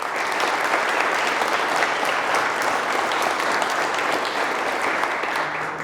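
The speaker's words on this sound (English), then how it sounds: "So let's give them, please, a round of applause." A round of applause for a Hall of Fame committee at an athletic Hall of Fame ceremony, steady crowd clapping that holds at an even level for about six seconds, with no voices over it.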